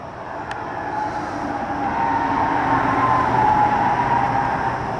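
A heavy eastbound loaded CSX coal train with helper locomotives rumbles past out of a tunnel, its steady roar swelling gradually as the cars roll by, with a faint metallic whine above the noise.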